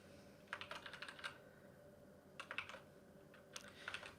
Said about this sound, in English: We're going to do that by typing in client.login.